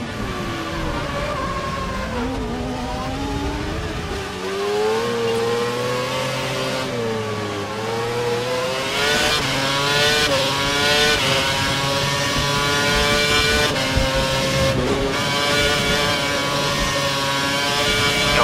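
A Formula 1 race car engine screams at full revs in the F1 2011 video game at the British Grand Prix, rising and falling through gear shifts with other cars' engines audible, no talking.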